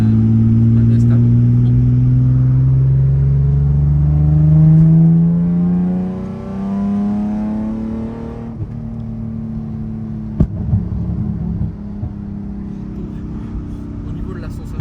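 A Nissan 350Z with a naturally aspirated engine accelerates from inside the cabin, its loud rising drone climbing through the revs before easing off, while people talk over it.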